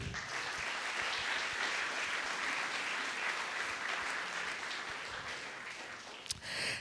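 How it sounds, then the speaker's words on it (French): Audience in a large hall applauds guest speaker Dr. Luc Julia at an event on generative AI, a long, even wash of clapping that thins toward the end, with a brief knock near the close. "que l'on peut applaudir, s'il vous plaît"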